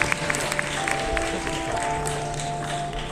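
A cosplay final audience at Paris Games Week applauds a costumed contestant, dense sustained clapping from a large indoor crowd with a faint background hum and a bit of talk.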